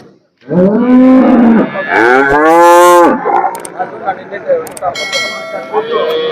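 Jersey cows lowing at a busy cattle market, two long loud moos close by, followed by a fainter moo and a bell ringing over background chatter.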